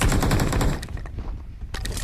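Rapid automatic gunfire in the mobile battle royale game PUBG Mobile, loud and dense bursts for most of a second, then a short lull with scattered single shots before firing resumes.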